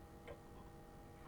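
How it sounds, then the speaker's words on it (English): Ticking clocks in the Play by Heart video game, heard as a steady, fairly quiet tick with two soft clicks about a second apart over a low hum. "Loud like every single clock in the place is completely in sync."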